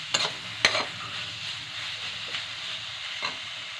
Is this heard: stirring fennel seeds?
yes